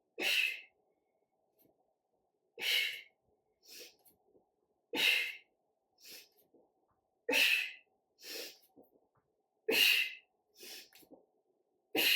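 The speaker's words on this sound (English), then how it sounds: "You hear me breathing loudly?" During a full-body workout, loud, sharp breaths come close to the ear in a steady rhythm, with strong exhales about every two and a half seconds and softer, shorter breaths between them.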